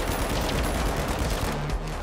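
Rapid bursts of gunfire in the shooter game The Finals, dense and loud, overlapping shots rattling continuously through the whole stretch with no pauses.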